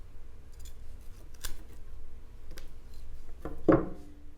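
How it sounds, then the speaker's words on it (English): An Eafengrow EF141 fixed-blade, full-tang combat knife slices through ordinary rope in a few quiet, short rasping strokes. A sharper, louder cut lands near the end. "Yeah, that just slices through it like it's nothing."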